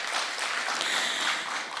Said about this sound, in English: Please, let's give them a round of applause as well.